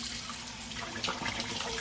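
Warm well water runs from a tap to be measured out for bread dough, a faint, steady trickling and splashing that is heard alone.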